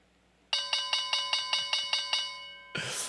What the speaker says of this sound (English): I've got the best closing bell on YouTube.